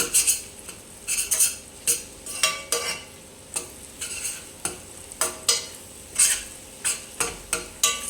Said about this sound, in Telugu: దీన్ని ఇలా చిన్న చిన్న ముక్కలుగా చేసుకోవాలి